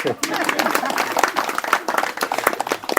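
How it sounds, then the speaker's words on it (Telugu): An audience bursts into a dense, continuous round of clapping at a spiritual talk, loud and close, holding steady for about three seconds. "అత్తలకు చప్పట్లు కొడదాం"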